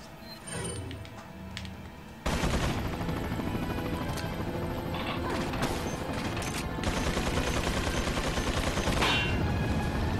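A mine launcher fires in Resident Evil 4 amid a loud, sustained barrage of game gunfire and explosive bursts that erupts suddenly after a quieter start and continues densely to the end.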